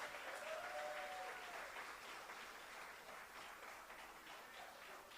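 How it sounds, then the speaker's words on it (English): A large audience at a college silver jubilee alumni meet gives a sustained round of applause, a dense, even roar of clapping heard from a distance in a hall. "so another huge round of applause"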